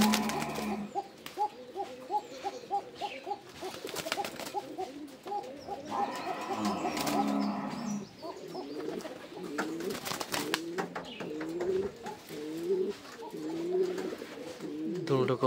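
A pair of pigeons, one a female just out of breeding, give steady repeated rolling coos up close, with fowl-like clucks and other bird noise mixed in throughout.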